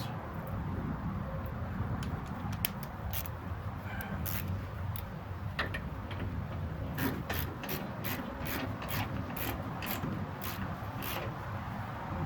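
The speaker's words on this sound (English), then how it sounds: "If I can find my ratchet, here it is." A hand ratchet snugs up a part during a disc brake conversion on a 1970 Pontiac LeMans/GTO, giving off a string of quick, faint clicking bursts over steady low background noise, with no talk.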